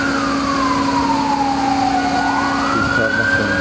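A fire engine's siren wails close and loud in Samsun, its pitch sliding slowly down and then sweeping back up over a steady engine hum.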